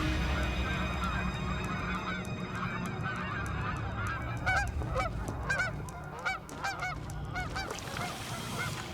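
Canada geese honking as a flock passes, many overlapping nasal calls that grow louder and busier toward the end over a steady outdoor rumble.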